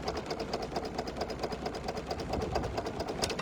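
A Dexheimer 222 tractor engine idles very slowly nearby, each low, even chug of its two-cylinder-like beat clearly separated in a steady rhythm.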